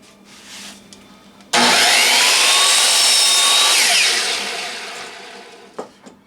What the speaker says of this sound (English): let's set up the chop saw and cut the slats for the top.